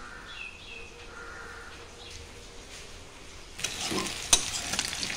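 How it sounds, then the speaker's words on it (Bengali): Naga chillies dropped into hot oil, a soft hiss that swells into a louder crackling sizzle near the end with a sharp clink, birds calling faintly in the background. "গরম তেলের উপরে নাগামরিচ দিলাইনি"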